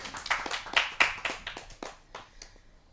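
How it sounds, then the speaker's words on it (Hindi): Sparse hand clapping welcoming a poet at a Hindi kavi sammelan, a dozen or so distinct close claps in an uneven rhythm, thinning out toward the end. "तालियों से आमंत्रित करते हैं।"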